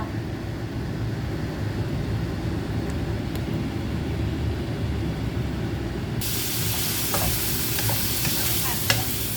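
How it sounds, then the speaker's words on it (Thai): Bottle gourd stir-frying in a hot pan, with a continuous sizzle and scraping stir that turns brighter and hissier partway through, close and steady with no talk. "ผัดน้ำเต้าไว้รอ"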